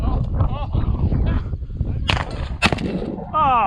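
A shotgun fires during a bird hunt, giving a sharp loud blast with a second report soon after, over constant outdoor noise and bird calls; people talk excitedly around the shots.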